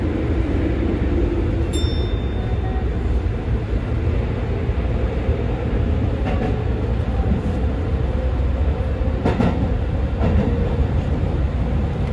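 Steady rumble of a moving train near Matsushima, Sendai, Japan, with continuous rattling and rail noise throughout, a brief high squeal early on, and no talking.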